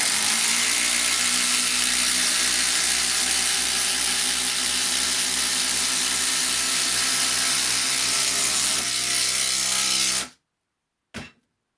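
Makita impact driver sinking long screws through a test stack into a workbench top, a loud continuous hammering whir lasting about ten seconds, then an abrupt stop and one brief final burst.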